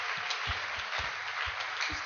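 A church congregation claps along during a sermon, producing a steady wash of hand clapping with regular low thumps beneath it, even and sustained.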